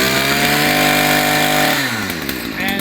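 A petrol brush cutter engine, either a Hyundai 52cc 5-in-1 or a Stihl FS 56 27cc, revs hard and loud up close, then drops in pitch as the throttle eases off near the end.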